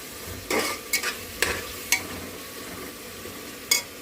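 Ginger-garlic paste fries in a pan for prawn biryani under a low, steady sizzle, with five or six sharp spatula scrapes spaced irregularly, close and clear.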